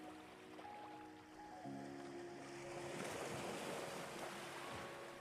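Ocean waves washing onto a beach at night, a soft rolling surf wash that builds gradually over a few seconds, faint and distant beneath sustained tonal music.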